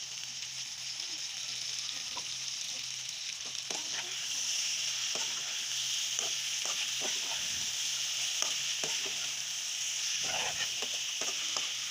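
Mixed vegetables and tomato being sautéed in a pan for a rohu fish curry with cauliflower, beans and potato, giving a steady close hiss of frying under repeated soft taps and scrapes of stirring, with no talking.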